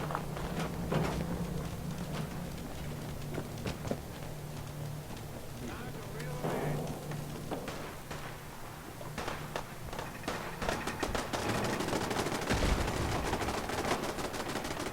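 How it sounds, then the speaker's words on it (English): Companions firing guns in the video game Fallout 4 Far Harbor, scattered sharp shots and rattling bursts mid-distance over a steady ambient hum, with someone talking over it. "The heck are you guys shooting at?"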